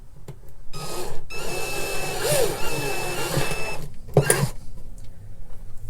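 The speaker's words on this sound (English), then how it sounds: "I'm just going to go ahead and drill this other one out" A power drill whirs in bursts, its motor pitch rising and falling as it drills out a screw in an Ovation CE44P spalted maple guitar, with short pauses between runs.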